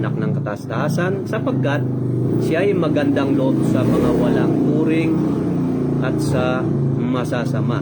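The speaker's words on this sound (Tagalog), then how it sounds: "Grabe naman magpatakbo ng motor." A motorcycle speeding along a narrow local road, its engine rumbling and rising under steady talk in Filipino, fairly near and continuous throughout.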